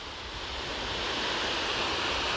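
Water spills over the Claerwen reservoir dam in the Elan Valley, a steady, dense roar of rushing water heard loud and continuous without any voices.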